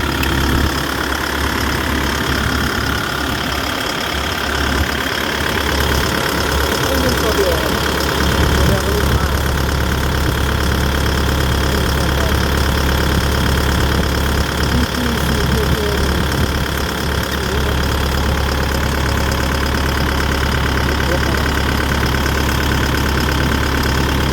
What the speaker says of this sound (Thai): เครื่องยนต์นะครับ